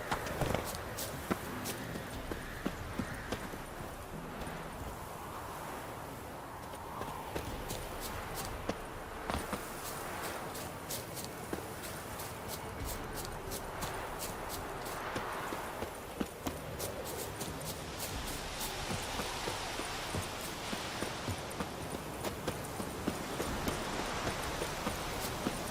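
Hooves of Geralt's horse Roach patter in a light, even trot in The Witcher 3, moderately loud and steady over a wash of outdoor game ambience.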